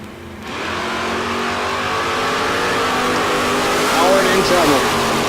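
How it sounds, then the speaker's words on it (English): Junior dragster race cars revving and launching at a bracket-racing drag strip, their engines droning steadily and then rising into a louder rev with a track announcer talking over them. "Junior Dragsters will take you the lanes for round number 4."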